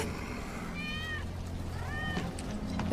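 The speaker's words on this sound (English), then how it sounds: "That's Wedge's cat." A cat meows twice in Final Fantasy 7 Remake, each meow a clear rising-then-falling cry, over a steady low game ambience.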